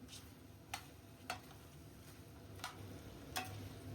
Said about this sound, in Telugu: మధ్య మధ్యలో కలుపుతూ చికెన్ బాగా ఉడికేంత వరకు ఫ్రై చేసుకోవాలి